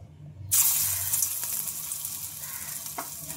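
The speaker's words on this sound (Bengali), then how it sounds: "তেল রয়ে গিয়েছে, দেখো সেই তেলে ঠিক একইভাবে আবারও আমি দিয়ে নিচ্ছি।" Neem leaf pakoras drop into hot oil and set off a sudden loud, steady sizzle that fills the rest of the clip, with a few small crackles and no talking.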